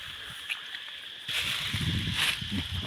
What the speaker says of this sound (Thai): น้ำไหลนี่งามอีก